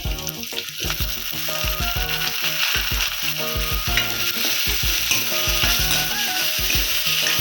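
Onion, green chilli, a sprig of curry leaves and a ripe tomato sauté in a pan for chicken gravy. A steady, close sizzle runs under a regular clatter of a spoon or spatula stirring against the pan, with no voices.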